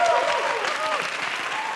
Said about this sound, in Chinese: 等一下掌声鼓励一下吧。